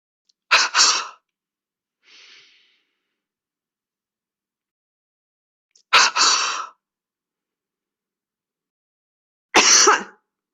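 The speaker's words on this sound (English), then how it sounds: "Follow with one strong cough to clear the mucus from your larger airways." Three sharp, forceful controlled coughs clearing mucus, spaced several seconds apart in a quiet room, with a faint breath between the first two.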